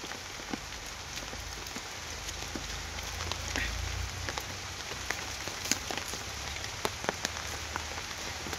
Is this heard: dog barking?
no